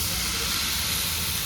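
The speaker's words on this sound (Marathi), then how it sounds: "आता आपण पाणी टाकूया." Water is poured into a hot pan of spicy Maharashtrian sandge gravy, giving a steady, close, broadband hiss that fills the whole brief moment.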